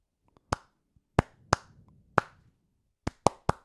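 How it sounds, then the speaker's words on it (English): Hand claps, about seven sharp, close claps in an uneven sequence with gaps between them, each one loud and crisp with a short decay. No other sound stands out. "Give me a clap"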